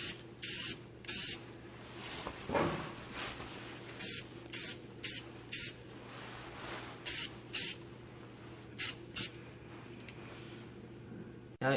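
Aerosol can of Fluid Film rust protection sprayed onto a vehicle's underside during winter prep: a series of short, sharp hissing bursts, roughly a dozen, each a second or less, separated by brief pauses, close and loud.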